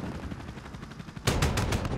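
Helicopter gun run in Call of Duty: Modern Warfare's chopper gunner mission, a rapid machine-gun stream that erupts loudly about halfway through with fast regular bursts over a continuous rotor-like rumble.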